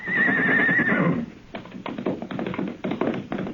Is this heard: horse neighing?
yes